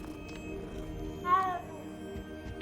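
A cat in the video game Hogwarts Legacy gives a single short, clear meow midway, standing out over a low game ambience and faint background hum.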